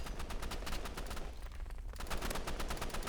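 Dense, continuous bursts of rapid gunfire from a Roblox Rivals match, loud and close, with rattling machine-gun-like volleys and a brief dip before the shooting resumes; no talking.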